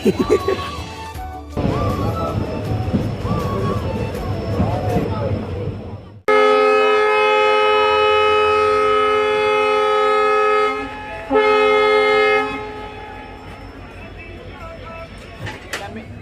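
A train's long horn blares loudly for several seconds, pauses briefly, then sounds again, after rumbling station noise and talking.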